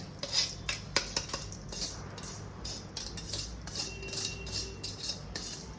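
Washed rice poured into a cooking pot during a home-kitchen preparation of hariyali palak paneer rice, heard as a loose clatter of grains and small metallic clinks from utensils and pot, fairly close and moderately loud, with no talking.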